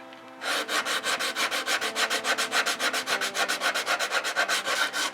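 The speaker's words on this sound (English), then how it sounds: "Now this is a fairly coarse grit, so that allowed me to shape it some more." Coarse-grit sandpaper rubs over wood by hand in a quick, even run of rasping back-and-forth strokes, close and loud, following a brief quiet start and with no talk.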